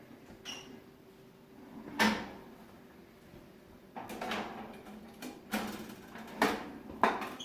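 Several hollow clunks and clicks of an air fryer door being handled, a few seconds apart, close by in a quiet room.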